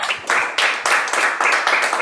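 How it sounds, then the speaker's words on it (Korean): A church congregation claps together in praise, a loud, close burst of rhythmic applause with about seven distinct pulses in quick succession and no speech. "하나님께 영광의 박수 올려드리겠습니다"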